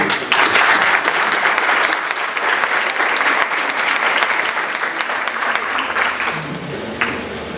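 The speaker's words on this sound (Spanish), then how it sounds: "Para ustedes un fuerte aplauso." Loud, steady applause from a large crowd, continuous throughout and close, with dense clapping that never lets up.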